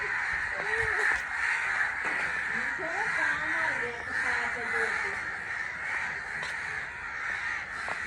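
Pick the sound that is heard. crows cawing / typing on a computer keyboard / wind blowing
crows cawing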